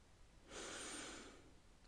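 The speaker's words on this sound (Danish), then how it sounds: "Træk vejret ind igennem næsen" A single slow breath drawn in through the nose during a guided meditation, a soft broad airy hiss lasting under a second, close and quiet, with no talking over it.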